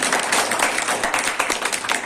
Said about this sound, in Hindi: एक बार जोरदार तालियां इनके नाम पे